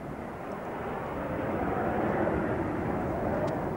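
Aircraft engine roaring steadily as a plane accelerates on its takeoff roll at the RAF Valley airshow in 1991, a continuous broad rumble that swells slightly over a few seconds, with no talk over it.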